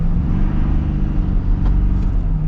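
Ford pickup truck, rated at 1,200 lb-ft of torque, accelerating hard as its tires struggle for traction, making a loud continuous low engine rumble that holds steady throughout.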